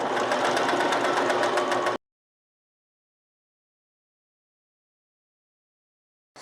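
A sewing machine runs steadily for about two seconds with a fast, even stitching rhythm, then stops abruptly into silence, with a brief click right at the end.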